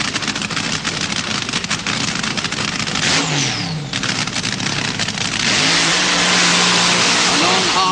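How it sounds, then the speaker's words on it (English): Dragster doing a burnout at a 1976 Santa Pod drag race, a loud sustained engine roar with rising revs and tyre noise, heard under a commentator's voice. "Burnout for Crane."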